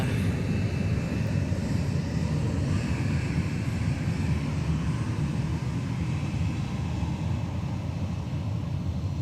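Southwest Airlines jet arriving at Minneapolis–St. Paul airport, a steady broad engine roar and rumble that holds loud and constant throughout, distant and continuous with no talking.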